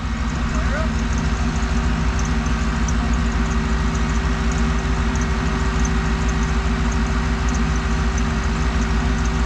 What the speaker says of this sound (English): Give this thing a little fire up, John.